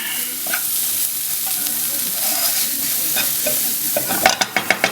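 Garlic, chili and spices fry in a pan for an aubergine and pea curry, giving a steady hissing sizzle with a few quick stirring scrapes near the end.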